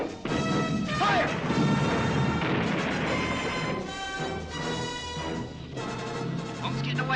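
Artillery gun firing in a war film: heavy booming crashes with a sustained rumbling roll over several seconds, loud and close, under dense film soundtrack.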